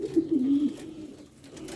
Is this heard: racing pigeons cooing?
yes